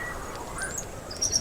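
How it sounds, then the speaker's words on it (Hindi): A migratory bird chirps softly in short, high tweets over a faint background hiss, with insect-like trilling mixed in and no voices. "ये तो कोई प्रवासी पक्षी है"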